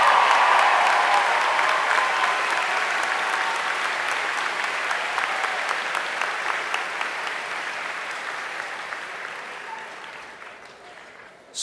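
Sustained applause from a large commencement crowd at Denison University, dense and even, gradually tapering over about eleven seconds with no speech over it.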